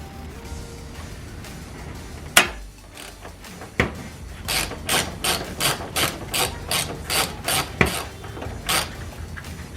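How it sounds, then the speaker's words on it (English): A ratchet wrench backs out the mounting bolts of a 2005 Audi A4 window regulator in a car door, two sharp clicks followed by a steady run of loud, close, evenly spaced ratcheting clicks. "we're ready to take off all the bolts that hold this in"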